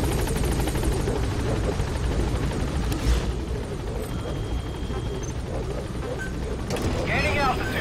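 A helicopter in the Metal Gear Solid V video game drones steadily as it climbs, a continuous rotor and engine wash under game sounds, with someone talking over it.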